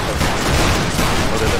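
Musket volley fire from the video game Battle Grounds III during a linebattle, a dense crackling fusillade of many shots that keeps up for the whole moment, loud and close, with shouted voices underneath.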